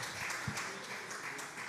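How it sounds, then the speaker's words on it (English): Soft, distant applause from a health conference audience in a hall, steady continuous clapping with no speech over it. "a round of applause for the team, the Nigerian Health Watch"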